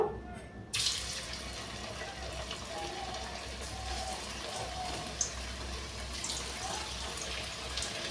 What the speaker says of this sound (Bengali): এরপর আমি মোমোগুলো ছেড়ে দেব